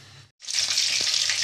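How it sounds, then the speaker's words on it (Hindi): Chicken strips frying in hot oil, a steady bright sizzle that cuts in after a brief moment of near silence and continues close and loud. "देख सकते हैं आप, चिकन स्ट्रिप्स हमारे फ्राई हो रहे हैं"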